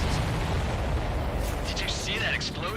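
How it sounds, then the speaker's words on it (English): Explosions in the air-combat game Ace Combat 7, a dense, continuous roaring rumble of blasts and debris that fills the whole stretch at steady loudness, with no voices heard. "Did you see that explosion?"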